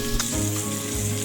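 Koi fish pieces fry in hot oil with a short, steady, close sizzle and soft bubbling hiss.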